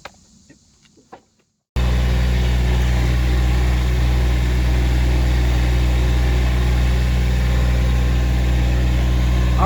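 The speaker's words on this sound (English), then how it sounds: "hopefully you can hear me over the tractor." A backhoe tractor engine starts up and runs loudly and steadily at a close distance, a continuous low diesel drone with a constant hum, after a brief quiet moment with faint sounds.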